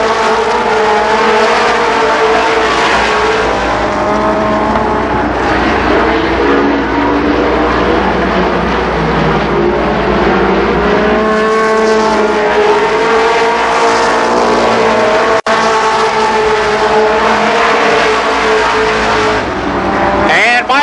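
Race cars roar continuously around Columbus Motor Speedway during the 1992 Memorial Day Classic, a dense, loud engine drone with shifting pitch as the field circles, a commentator talking over it throughout.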